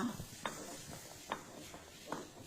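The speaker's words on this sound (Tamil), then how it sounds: "இப்போ அம்மியில் மிளகை மட்டும் நல்லா பட்டு மாதிரி அரைச்சி எடுத்துக்கலாமா" Black pepper ground by hand on a traditional stone grinding slab (ammi), heard as faint, evenly spaced rolling scrapes roughly every second, close up and without speech.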